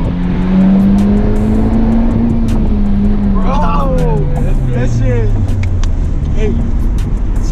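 A Honda Type R weaves around cones, its engine note rising and falling in loud, close revs as it accelerates and slows, with voices briefly heard over it.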